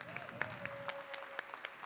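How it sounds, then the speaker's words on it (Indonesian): Scattered, faint clapping from the audience at a company's 25th anniversary ceremony, a handful of distinct claps over a steady tone and quiet room noise. "Boleh tepuk tangan sekali lagi?"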